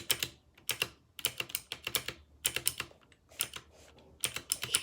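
A fairly loud, cheap computer keyboard is typed on during Modern Warfare play, with rapid clusters of keystroke clicks separated by short pauses and no talking.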